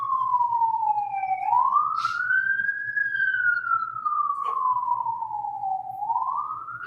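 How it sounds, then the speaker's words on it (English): A police siren passes outside a courtroom, its rising and falling wail sweeping slowly up and down, loud and steady through the whole stretch with no one speaking over it. "Just letting the siren go out."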